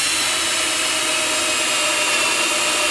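Power drill running steadily as it drives screws into a plywood cornhole board, a continuous close whir with no talking.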